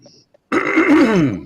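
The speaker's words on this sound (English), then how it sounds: "sorry for clearing my throat in your ear" One rough, throaty throat-clear lasting about a second, close and fairly loud after a brief quiet moment.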